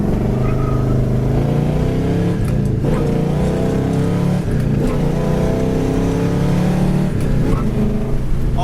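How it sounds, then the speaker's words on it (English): A red 1964 Pontiac GTO accelerates hard through all four gears, its engine roaring loud and close, rising and dropping at each shift, with tire noise over a constant, powerful rumble. "All 4 gears, it rips the tires loose."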